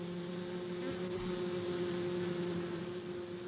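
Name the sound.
worker bees fanning their wings at hive entrance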